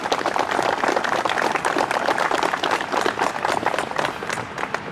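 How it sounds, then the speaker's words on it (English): A crowd at an outdoor veterans memorial rededication gives a mayor a round of applause, loud, dense clapping with sharp individual claps standing out, sustained for several seconds before tapering slightly. "please give him a round of applause"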